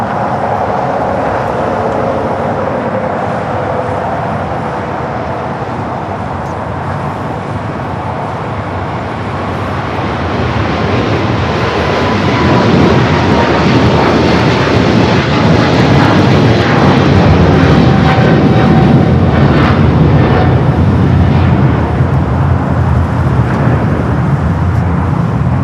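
An airliner takes off on runway 25 right at LAX, its jet engines building from a steady roar to a louder, broader rush with a whining tone sliding downward, heard from a distance and continuous throughout.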